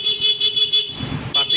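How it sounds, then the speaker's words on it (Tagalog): A Suzuki Raider 150 Fi motorcycle horn, fitted with a Thai switch, sounds in a series of short, loud, steady electric toots close by, breaking briefly in the middle before sounding again. "Yan, busina."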